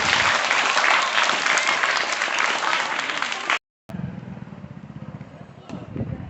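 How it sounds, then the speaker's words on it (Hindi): Audience clapping loudly at a school road safety event, steady dense applause filling the first three and a half seconds, then a brief cut and quieter room noise with a speaking voice. "एक अच्छी सी ताली बजा दीजिए।"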